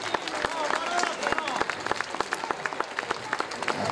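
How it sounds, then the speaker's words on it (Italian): Audience applause at the prize podium of the 11th Autoslalom San Piero Patti 2024, a dense wash of clapping held through the whole stretch while someone talks over it on the public address. "Un caloroso applauso a tutti."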